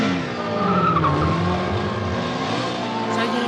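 Racing motorcycles rev hard and pull away together at the start of a competition, a loud, continuous roar of engines with rising pitch and some tyre squeal, with faint voices underneath.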